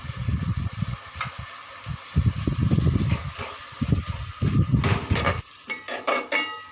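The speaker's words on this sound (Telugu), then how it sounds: "టమాటో ముక్కలు వేసుకొని ఇలా మొత్తం కలుపుకోవాలి." Tomato pieces dropped into a pan of cooking broad beans and stirred in, with soft sizzling, scraping and clinking of a spoon against the pan in bursts, close and fairly loud, ending in a few sharper clatters.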